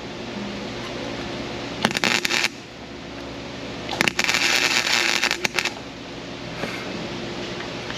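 Fire crackles during welding repair work on a Lexus SC430: two loud sputtering, crackling bursts stand out over a steady low hum, with quieter stretches between them.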